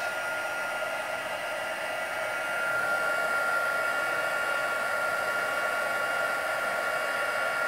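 A heat tool blows a continuous, even whoosh while heat-setting a craft project, steady and close throughout, growing slightly louder partway through, with no talking.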